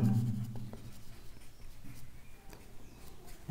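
A pen scratches steadily across paper as algebra equations for an ellipse problem are handwritten during a higher-secondary maths lesson. The strokes are soft, close and continuous, with no talking.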